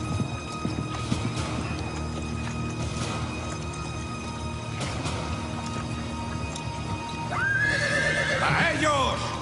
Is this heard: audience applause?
no